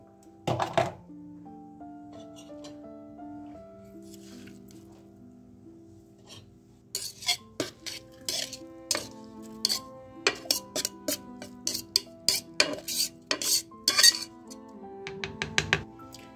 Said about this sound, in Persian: حالا قابلمون رو میذاریم.